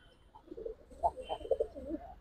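Giribaz and colored pigeons coo softly at close range, a series of short, throaty coos rising and falling over about two seconds with no voices.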